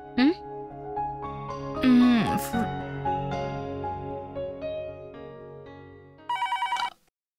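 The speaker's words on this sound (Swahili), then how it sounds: "ngoja niwapigie simu ofisini naulize Purabu kafika au la." An office telephone rings on the other end of a call, a bright electronic ringtone with a melodic opening, sustained tones in the middle and a final burst of rapid trilling pulses before cutting off, close and clear.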